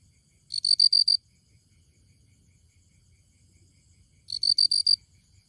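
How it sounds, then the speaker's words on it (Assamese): A small insect chirps loudly at night in a village. It gives two short bursts of rapid, shrill, pulsing chirps several seconds apart, close and clear over a quiet background. "পোকটো নিশ্চয় দেখিলে একদম ইমানটোমান পোক মানে সৰু পোক বহুত ডাঙৰ পোক নহয় কিন্তু শব্দটো বহুত দূৰলৈকে যায়"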